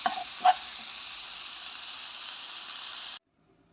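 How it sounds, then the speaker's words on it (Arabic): Chicken breast fries in a pan, giving a steady broadband sizzle with a couple of brief clinks from stirring near the start. The sizzle cuts off abruptly, and no one talks. "غنبقى نحرك الكل جيدا حتى يطيب ليا صدر الدجاج"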